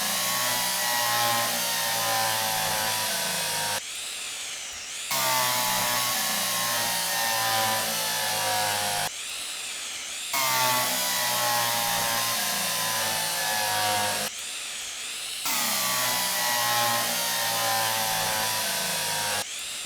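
A power drill in the video game Derail Valley whirs in long steady bursts, four runs each several seconds long separated by short pauses, loud and mechanical.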